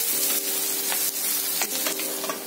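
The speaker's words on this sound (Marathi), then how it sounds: "आता हा कांदा आणि मिरची सगळं भाजलं जाऊ दे" Onion and green chili frying in oil for a fenugreek leaf dish, a loud close hiss of sizzling with a faint steady hum beneath and a few sharper spits.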